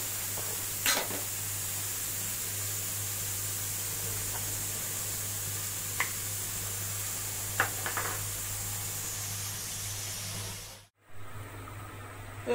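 Meat sizzling steadily in a pan with garlic and ginger paste while being browned for haleem, a constant frying hiss with a few faint scrape and clink accents, ending in a brief dropout.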